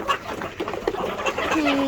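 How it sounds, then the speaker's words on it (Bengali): Backyard chickens are fed late at night, with soft clucks and bird calls scattered through a busy, fairly close background, and a faint voice now and then. "এই আমাদের সকল মুরগিগুলো আমার আম্মু আদার দিচ্ছে"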